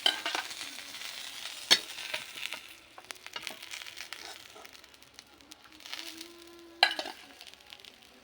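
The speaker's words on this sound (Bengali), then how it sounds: "মাছগুলো একে একে করে ভাজে নেবে" Fish pieces fry in oil with a soft, fairly quiet sizzle, broken by a couple of sharp clatters and brief scraping handling noises, with no one talking.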